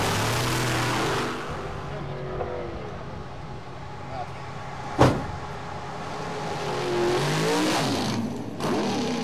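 Outlaw Eliminator drag racing cars roar off the start line at a 2009 FHRA event in Pudasjärvi, a loud sustained engine blare with one sharp crack midway, while a commentator talks over it.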